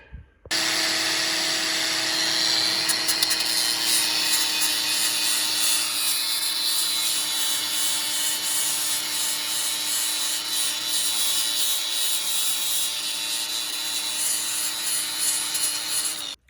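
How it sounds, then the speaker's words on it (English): A power grinder steadily whines as it grinds paint off Volkswagen Type 1 transmission adjustable spring plates, a continuous loud harsh rasp with a constant motor tone and slight fluctuations as the tool works the metal. "So now I'm gonna grind it off and then get ready to paint"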